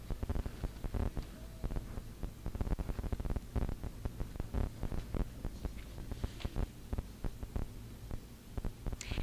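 Q-matic computerized quilting machine stitching a quilt, a soft rapid rhythmic thumping of the needle with a low motor hum, quiet and steady throughout.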